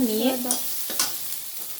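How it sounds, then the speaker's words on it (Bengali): Ground leaf paste fries in oil in a wok, giving a close, steady sizzling hiss with a couple of brief stirring scrapes and a faint tonal squeak at the start, with no talking. "ওই তেঁতোগুলো দিয়ে পাতার বাটাটা ওইটা দিয়ে আমি ভালো করে ভেজে নেব"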